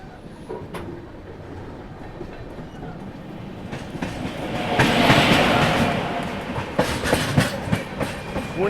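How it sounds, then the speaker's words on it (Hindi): The Murdeshwar–Kacheguda Express rolls past on the rails, its wheels clattering steadily and swelling to a loud peak midway before continuing with rhythmic clickety-clack. "सामने से कच्चीगुड़ा एक्सप्रेस आ रही है, मुर्डेश्वर कच्चीगुड़ा एक्सप्रेस।"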